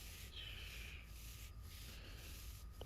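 A hand rubs a child's back in slow, repeated soft strokes, faint and close. Each brushing pass shows as a gentle swell over a low, steady background hum.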